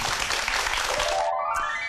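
A lecture audience clapping, a dense, steady wash of applause that cuts off sharply partway through, followed by a brief musical tone.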